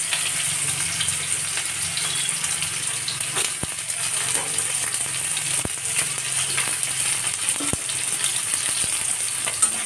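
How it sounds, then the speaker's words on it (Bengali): Onions frying in oil in a wok crackle and sizzle steadily, with occasional sharp clicks of a utensil against the pan and a low background hum, and no voices. "আর পেঁয়াজটা প্রথমে ভাজা করে নিচ্ছি"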